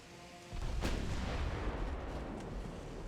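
A battleship's naval guns fire in the Ultimate Admiral: Dreadnoughts game, one heavy booming salvo with a sharp crack, then a long rumbling decay of echo and distant thuds.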